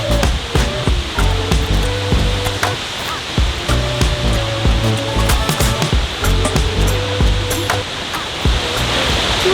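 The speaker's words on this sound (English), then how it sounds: "This waterfall looked way too epic from the road." A roadside waterfall in Iceland roars as a loud, constant rush of falling water, broadband and steady throughout, with faint voices under the noise.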